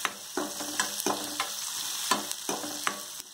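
Chopped onions fry in a pan for a Tamil small palakai kuzhambu, a steady close sizzle broken by repeated stirring scrapes at a regular pace, with no talk.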